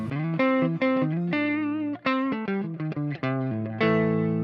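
Electric guitar played through a Fractal AX8 humbucker preset: distorted single notes and short phrases, up close and clear, ringing out on a held final note.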